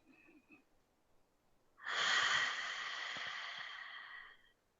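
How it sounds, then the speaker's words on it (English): A long, steady breath runs about two and a half seconds during a yoga class, loud and airy, after a short faint sound at the start; deep abdominal breathing with no talk over it. "take 3 deep abdominal breaths"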